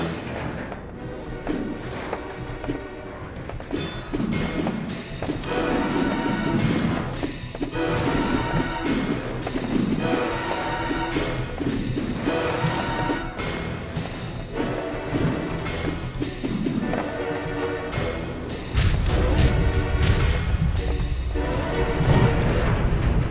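Repeated boss explosions in the video game Teslagrad, a run of heavy thuds and crashing bursts layered over the game's music, growing louder and denser toward the end.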